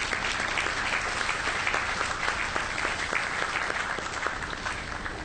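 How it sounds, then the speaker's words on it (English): Sustained applause from an audience at a morning church service in Korea, following a speaker's report, a dense steady wash of many hands clapping at even loudness throughout. "Let's really applaud him once more."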